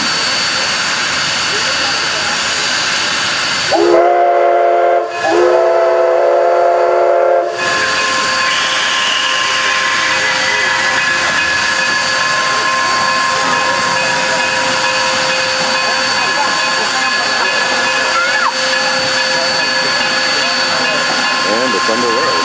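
Durango steam train whistle sounds in two loud blasts, a short toot then a longer sustained one, over the steady hiss and rumble of the idling locomotive.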